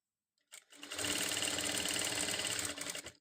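Sewing machine stitching piping onto a box-shaped neckline, starting after a short silence and running as a loud, steady, continuous whir with no talk over it.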